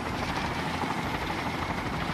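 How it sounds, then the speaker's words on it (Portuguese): Helicopter rotor and engine drone from the video game Far Cry 5, a steady, loud, continuous thrum with no talk over it. "É, tem helicóptero também."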